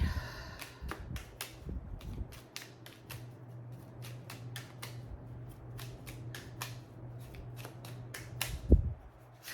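Repeated crisp riffling snaps of tarot cards being shuffled, coming in quick bursts over a low steady hum, with a brief thump near the end.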